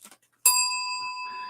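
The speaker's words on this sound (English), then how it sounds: "You get a bell." A bell effect rings out once with a bright, clear metallic strike that sustains and slowly fades, after a brief bit of quiet.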